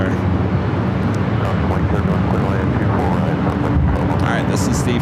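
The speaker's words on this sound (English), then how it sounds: "this is the flight heading to JFK, 767-300ER" A Boeing 767-300ER airliner at LAX, a loud, broad jet roar that stays steady and close for the whole stretch, with no gaps or clear changes in level.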